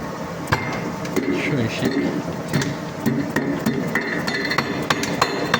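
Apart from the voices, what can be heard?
hammer striking metal during maintenance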